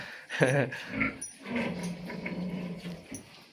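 Young piglets on a farm play and chase a chain, giving low, rough growl-like grunts and squeals in short, uneven bursts, close by and fairly quiet.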